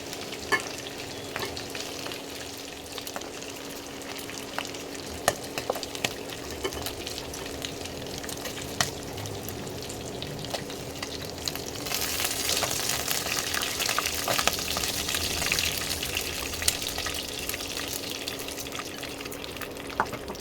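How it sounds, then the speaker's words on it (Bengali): Mutton sizzles in hot oil in a pan as it is stirred and lifted out, a continuous close hiss dotted with sharp utensil clicks that grows louder partway through. "মাংসটা ভাজা হয়ে গেছে এবার আমি আস্তে আস্তে তুলে নিচ্ছি"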